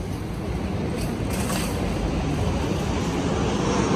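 An airplane near LaGuardia Airport in Woodside, Queens, New York City, roars overhead, a loud, continuous broadband rumble with a rushing hiss, sustained throughout with no voices.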